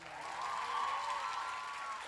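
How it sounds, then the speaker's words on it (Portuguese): An audience applauds during a 2014 school science quiz competition, a steady, dense clapping that holds at an even level for about two seconds with no voices standing out. "Uma salva de palmas mais para os caras."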